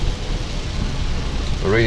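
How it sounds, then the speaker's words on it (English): Rain falls steadily in the Dominican Republic, a dense hiss of drops spread across the whole clip, with a voice briefly audible near the end. "Little bit raining"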